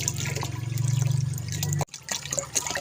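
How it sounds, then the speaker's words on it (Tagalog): Water gushes steadily into a cooking pot outdoors for a goat sinampalok stew, a continuous pouring rush that cuts off abruptly, followed by a few faint drips and clinks. "Maglalagay na tayo ng tubig sa kaldero."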